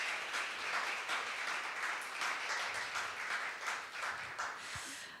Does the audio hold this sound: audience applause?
yes